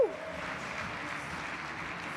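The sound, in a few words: applause for speaker coming on stage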